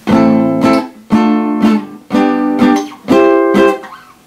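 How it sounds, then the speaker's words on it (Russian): A guitar chord strummed four times in a steady rhythm, each ringing out loud and full before the next, with no voices. "Вот как звучит большой аккорд ля минорный."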